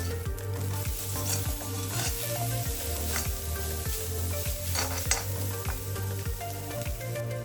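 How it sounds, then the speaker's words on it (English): Grated coconut roasting and being stirred with sugar in a pan for a plantain snack, a steady close sizzle under a regular rhythm of scraping spatula strokes, with no talking. "After that, 1 cup of grated coconut is also roasted for a minute."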